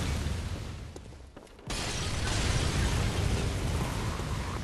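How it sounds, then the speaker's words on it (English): An explosion in the video game Bloodborne booms suddenly midway through and leaves a loud, rumbling wash of noise that persists to the end. "And there's the other explosion."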